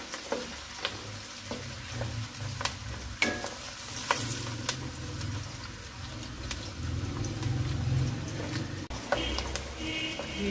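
Onions sizzle steadily in a pan for keema while a utensil stirs them with intermittent scraping clicks, close and moderately loud.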